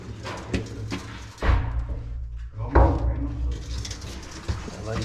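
Heavy steel door of a GDR border troops command bunker swinging shut with two loud slamming thuds, boomy and near, with people talking around it.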